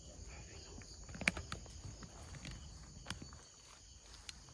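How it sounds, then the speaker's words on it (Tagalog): Footsteps of someone walking outside a hut at night, faint and distant, with a few soft scuffs and thuds over a steady bed of crickets and insect chirring. "So, may naririnig pa rin na kaming naglalakad dyan."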